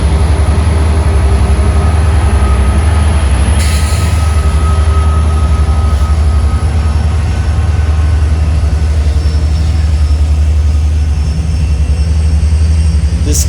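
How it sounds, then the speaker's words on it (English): A freight train led by two low-emission EMD SD59MX rebuilt locomotives rolls past near Roseville, California, a loud, steady diesel drone with deep rumble that stays constant throughout. "This cool locomotive consist is fronted by two EMD SD59MX rebuilds, low emissions, California based"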